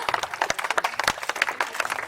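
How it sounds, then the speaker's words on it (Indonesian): Scattered hand clapping from a small gathering at an outdoor tree-planting ceremony, uneven and fairly close, continuing steadily for a couple of seconds with no voices over it. "Boleh tepuk tangan kepada semuanya."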